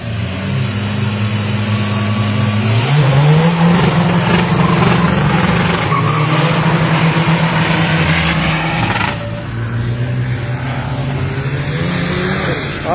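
A race car accelerates hard at a 200 m run event in sunshine, its engine loud and close, revs climbing through gear changes before a shift in tone as it pulls away.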